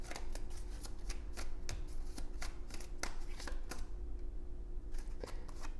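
Tarot cards are drawn and handled from a deck during a reading, producing a steady run of light, crisp flicks and snaps close up, alone without talk.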